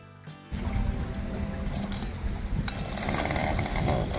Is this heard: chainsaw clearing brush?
yes